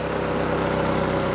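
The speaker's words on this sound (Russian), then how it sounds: "Мотор дымит, но работает плюс-минус ровно." An old, worn car engine that smokes runs at a roughly even idle, a close, steady low drone with a faint rhythmic pulse and no voices.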